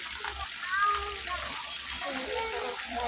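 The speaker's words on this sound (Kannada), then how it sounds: "ಮಳೆ ಸೂಪರಾಗಿ ಬೀಳ್ತಾ ಇದೆ ತುಂಬ ಜೋರಾಗಿ ಬೀಳ್ತಾ ಇದೆ" Heavy rain falls in a steady, dense hiss that is loud throughout, with pipe-fed water running nearby and a voice faintly audible.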